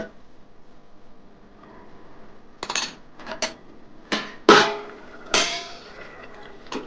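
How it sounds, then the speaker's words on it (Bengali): A metal lid comes off a pot of cauliflower and potato cooking with poppy seed paste, giving several sharp clanks and scrapes of metal in an irregular run, fairly close and clear. "ঢাকাটা খুলে দেখি।"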